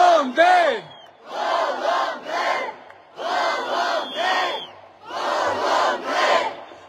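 A protest crowd at a rally chanting a short slogan in unison, with loud three-beat shouts repeated in rhythmic bursts separated by brief pauses.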